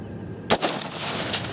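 A single rifle shot cracks out at an outdoor shooting range, one sharp loud report midway, followed by a fading echo and quiet background.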